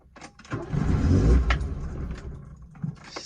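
An old, rusty Volkswagen Rabbit's starter cranks once, the engine turning over with a brief whirring grind for about a second and a half but never catching, close and fairly loud.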